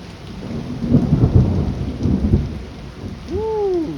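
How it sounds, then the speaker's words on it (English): Loud rolling thunder rumbles through steady heavy rain during a nighttime storm over a town street, with a short rising whistle near the end. "Gotta have that thunder."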